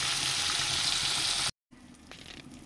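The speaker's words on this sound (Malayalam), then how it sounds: "മീൻ പൊരിച്ചെടുക്കാം." Masala-coated fish frying in a pan gives a steady, loud sizzle that cuts off abruptly, then returns softer and lighter.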